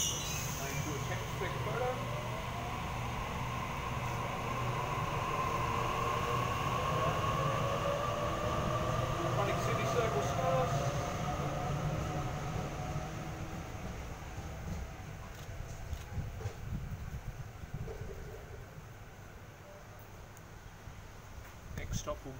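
A Sydney Waratah electric train departs a station platform, its traction motors whining and rising in pitch as it pulls away, then rumbling and fading into a quieter wheel clatter, heard loud and alone.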